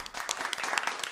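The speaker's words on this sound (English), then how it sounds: "There's an applause." Applause from a studio podcast audience, a short dense burst of many hands clapping at moderate distance, steady throughout.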